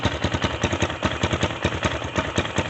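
A 2019 Xmotos 250cc dirt bike engine idles close by with a loud, steady, rapid chugging pulse that continues throughout.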